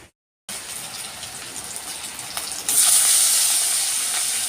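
Fish frying in hot oil in a home kitchen, a steady sizzling hiss that starts after a brief silence and grows louder and harsher partway through, close and continuous with no talk.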